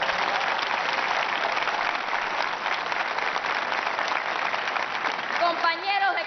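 A large crowd at the central July 26 commemoration rally in Cienfuegos, Cuba, applauds in a sustained, dense roar of clapping that stays loud and even, with a voice breaking through near the end.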